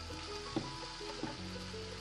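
A small amount of water is poured into a pan of beans being cooked for kothavarangai poriyal, a faint quiet trickle with a couple of soft splashes, with no one talking.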